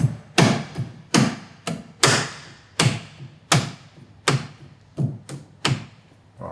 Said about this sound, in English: A rubber mallet.